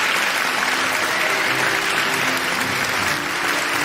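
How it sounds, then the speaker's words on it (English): A debate audience applauds with steady, full clapping throughout, a dense and even roar of many hands, with some faint tonal hum underneath. "A round of applause will be in order,"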